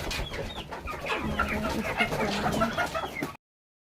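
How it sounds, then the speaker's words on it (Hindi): Several chickens cluck and chatter close by in a busy overlapping flock, with no talking, until the sound cuts off abruptly. "तो चलिए मुर्गी लोग को दिखाते हैं, मुर्गी कितना बड़ा बड़ा है।"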